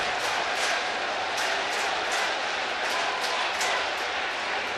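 A dense, lively ballpark crowd at a Mets baseball game roars steadily throughout, with swells of cheering and indistinct voices filling the stadium.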